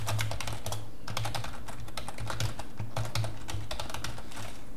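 Steady, fast typing on a computer keyboard while writing code, with close, crisp key clicks in irregular bursts and no talking.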